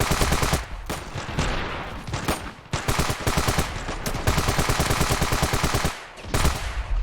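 Dense, close bursts of automatic gunfire in the video game Ravenfield, rapid overlapping shots nearly unbroken for several seconds with brief gaps.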